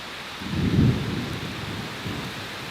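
A low rumble of thunder rolls over steady rainfall, fading back to a constant patter of rain.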